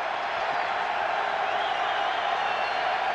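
A football stadium crowd at a 2006 Louisville versus South Florida college game roars steadily, a dense and even wash of many voices with no single sound standing out.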